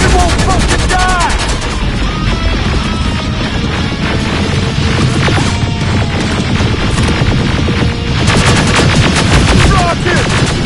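Dense, continuous gunfire in the first-person shooter Terminator Resistance, overlapping rapid shots and bursts that crackle loudly throughout, mixed with crashes, chaotic game noise and shouted voices.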